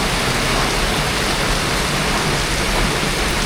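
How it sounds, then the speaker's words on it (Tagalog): Heavy rain pours down in a dense, unbroken roar, loud and close, with no voices. "grabe yung ulan dito sa amin."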